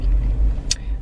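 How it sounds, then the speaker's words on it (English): Car traffic passing on a road, a steady low rumble of engines close by with a brief sharp hiss near the end. "of course there's traffic"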